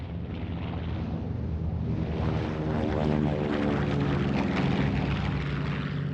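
Propeller engines of a US Navy Catalina patrol plane drone loudly and steadily, a thick throbbing roar that holds at full strength for the whole stretch without pause.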